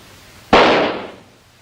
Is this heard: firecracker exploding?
yes